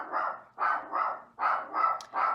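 A dog barks in a rapid run of loud, close bursts, roughly six barks in quick succession, set off by someone walking past outside.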